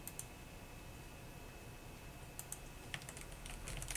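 Typing on a Rakk Lam-Ang Pro Max keyboard: faint, sparse key clicks over steady background hiss, growing a little busier toward the end.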